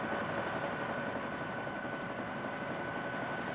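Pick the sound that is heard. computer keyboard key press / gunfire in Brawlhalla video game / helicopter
helicopter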